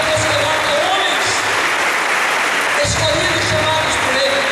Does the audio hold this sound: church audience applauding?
yes